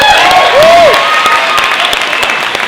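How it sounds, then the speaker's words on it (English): A university audience at the University of Portland claps loudly and steadily for the evening's moderators, with one brief whistle rising above the clapping. "so if you could give them a round of applause"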